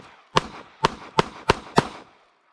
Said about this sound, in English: I'm going to do my regular retention shooting.